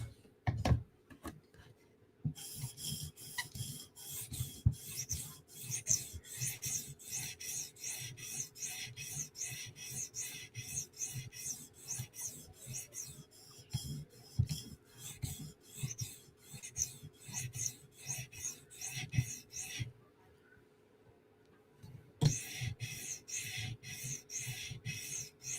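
Steady rasping strokes of a Chris Reeve Umnumzaan tanto knife worked back and forth across whetstones, a dense continuous scraping rhythm with a short pause near the end before the strokes resume.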